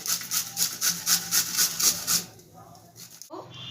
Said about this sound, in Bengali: দুটো গাজরই আমি এই একইভাবে গ্রেট করে নেবো